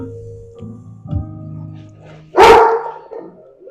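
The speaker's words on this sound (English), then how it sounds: "You hear my dogs?" A single loud dog bark rings out close by after a stretch of lower whining and grumbling sounds.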